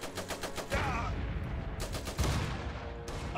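Rapid bursts of automatic gunfire and explosive shots crackle through a World War-era battle in the strategy game Iron Harvest, repeated volleys dense and loud, with a voice calling out between them.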